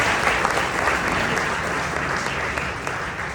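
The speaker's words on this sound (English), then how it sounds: "So give them also a round of applause." An audience at a parents' evening event claps in a dense, steady round of applause, loud and uniform across the whole stretch with no speech over it.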